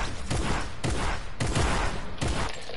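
Several bursts of heavy gunfire, each loud impact decaying before the next, about four or five shots spread across a noisy backdrop with no talking.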